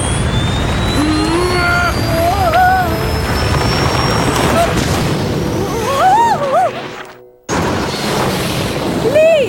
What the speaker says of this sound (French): essayons de régler nos jet boots à la puissance maximum